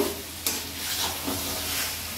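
Chicken meat sizzling as it is fried and stirred in a pot for capsicum chicken curry: a steady close hiss of frying with a sharp clatter of the stirring spoon early on.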